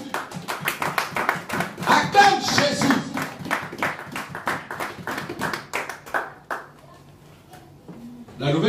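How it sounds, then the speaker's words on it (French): A church congregation claps rhythmically during a worship service, with loud, close hand claps mixed with voices calling out over them before a brief lull. "Acclame Jésus"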